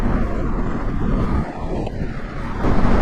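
A 2026 Honda Scrambler 500 (SCL500) motorcycle accelerates up to highway speed, a steady, loud engine drone blended with heavy wind rush that dips briefly and then swells again.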